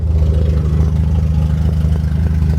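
A Volvo 740 with a straight-pipe exhaust idles close by, a loud, steady low rumble with an even pulsing throb and no talking over it.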